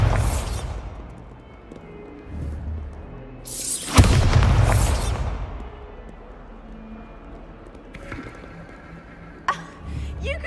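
A Bombarda spell detonates in Hogwarts Legacy, a loud booming blast that swells and rumbles for about a second, with a rumbling ambience before it and faint clicks and softer knocks trailing afterward.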